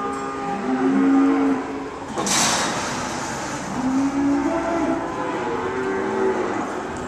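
Big Braford heifers, about two years old and around 1,000 pounds, moo in low, drawn-out calls, several in turn against a constant outdoor rumble, fairly near and moderately loud.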